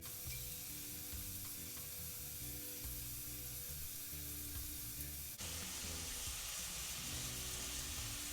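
Peppers, cilantro and sausage soup being stirred in a pot, a steady close sizzle and bubbling with faint scraping, continuous throughout.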